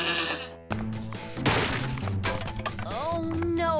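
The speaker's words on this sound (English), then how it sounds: "It sounded like she was being attacked by a goat." Cartoon goat bleating in a Bratz animated episode: a wavering, quavering bleat over crashing thuds and a busy, cluttered soundtrack, loud and close.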